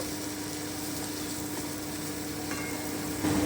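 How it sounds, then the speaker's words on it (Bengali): Onions frying in a pan for a Bengali egg curry with poppy seeds, a steady close sizzle that holds evenly throughout and swells slightly at the end, with no talk. "আমি আরও একটুখানি ভেজে নিচ্ছি"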